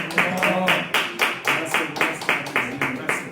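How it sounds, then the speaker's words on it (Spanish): An audience claps in a steady rhythmic beat to welcome a priest as he enters, evenly spaced loud claps in unison repeating throughout, with talk faintly underneath. "Esta es su entrada y los aplausos suenan para nuestro invitado."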